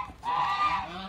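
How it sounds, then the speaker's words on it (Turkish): Domestic geese in a farmyard coop give a single loud, drawn-out honk lasting most of a second, close to the microphone, with no talk over it. "Kazlar rahatsız etmeyelim de kazlar."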